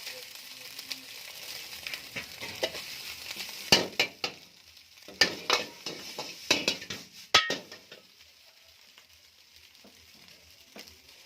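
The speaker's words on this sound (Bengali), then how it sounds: "এবারে চাউমিনটা ঢেলে নেবো।" Chow mein noodles tipped into a hot pan for chicken triple noodles, then stir-fried: a steady close sizzle with a run of sharp utensil scrapes and clinks against the pan in the middle, easing back to sizzling.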